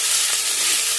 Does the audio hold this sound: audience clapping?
no